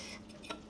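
Hot instant noodles are stirred with soy paste in a bowl, a quiet, brief scrape with one small utensil click, close but faint.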